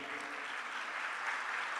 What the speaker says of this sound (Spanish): Demos un fuerte aplauso de bienvenida.